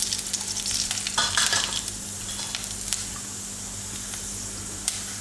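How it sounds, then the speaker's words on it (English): Fenugreek seeds sizzle and crackle in hot oil as tempering for a vegan peanut-milk kadhi, a steady close fry with scattered pops and stirring scrapes. "next tempering is 2 to 3 pinches of fenugreek seeds"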